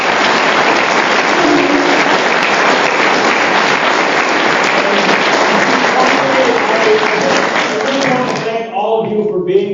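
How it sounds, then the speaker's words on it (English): A large audience at an environmental election debate applauds in a loud, dense, sustained wave of clapping that thins out near the end as a voice begins speaking. "A round of applause."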